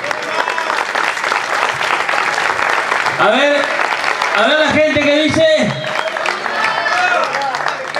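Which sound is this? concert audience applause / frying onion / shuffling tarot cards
concert audience applause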